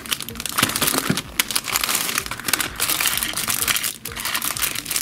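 Close, loud crinkling and rustling of plastic bags being unpacked from a Kracie Popin' Cookin' hamburger candy kit, a continuous busy series of crackles and crumples.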